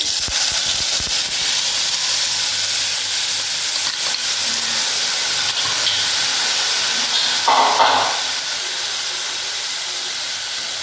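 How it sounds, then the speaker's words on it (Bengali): Mustard spice mixture poured into a hot pan of tempering for Bengali shorshe ilish (hilsa fish curry) sizzles steadily and loudly, a continuous frying hiss with a brief louder surge near the end. "এবার এই মিশ্রণটা আমি এর মধ্যে ঢেলে দেব"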